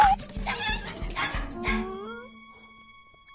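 A fluffy pet dog yips, howls and whimpers in a few quick close bursts that trail into a long whine, with no talk over it.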